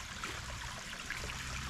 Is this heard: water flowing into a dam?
yes